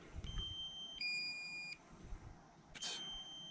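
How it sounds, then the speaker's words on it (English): A drone controller gives low-battery beeps in short steady tones, a few in sequence with pauses between, fairly faint against a quiet background. "This beeping that you're hearing is because it's running out of battery."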